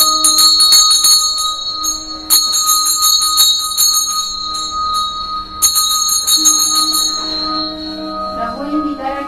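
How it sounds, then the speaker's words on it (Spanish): Ritual bells ring out loud and bright, with repeated strikes and long sustained shimmering tones layered over one another. "Voy a hacer sonar campanas como se hace en todos los rituales."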